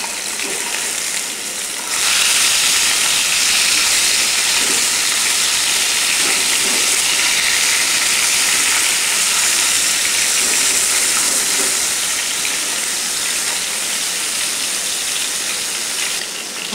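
Tilapia fish frying in a pan of hot oil makes a loud, dense, continuous hiss that swells after two seconds and holds steady, with faint scrapes underneath.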